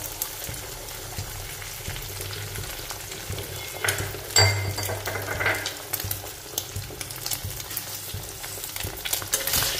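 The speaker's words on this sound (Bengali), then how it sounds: "তারপর আমি ডিমটাকে দিয়ে দেবো এভাবে, তেলটাকে সাইড করে।" Egg sizzling in hot oil in a pan alongside fried potato, onion and chilli, with steady crackling frying and occasional scraping stirs of a spatula, close and moderately quiet.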